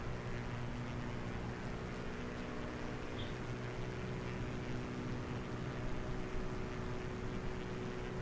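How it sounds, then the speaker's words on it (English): Aircraft engines in Microsoft Flight Simulator 2020 during a windy flight from Liverpool to Walney Island, a faint steady droning hum with a low tonal whine under broadband wind noise, no voices. "I can hear engines."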